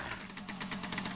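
Motorcycle engine turning over as it is started again, a rapid rhythmic chugging pulse, fairly faint and steady over a brief moment.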